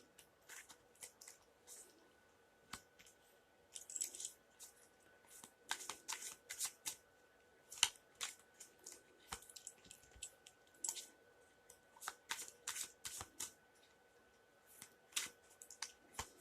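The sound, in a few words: shuffling tarot cards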